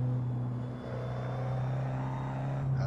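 A Seat Leon 1.9 TDI diesel in Assetto Corsa, its engine droning loud and steady with a low hum that climbs gradually under load as the revs build slowly, with no talk.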